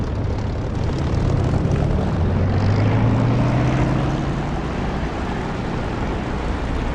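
A propeller aircraft taxiing in the DCS flight simulator game gives a steady, loud engine drone with a low rising tone partway through, continuous and without speech.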